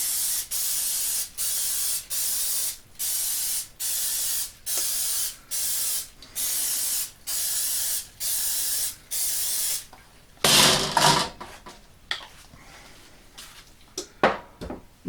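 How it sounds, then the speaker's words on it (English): Cooking spray hisses onto a muffin pan in about a dozen short, even bursts with brief pauses between them, followed by a few clattering handling noises of the pan as the oven preheats to 400 degrees. "spray or oil or butter your muffin pan"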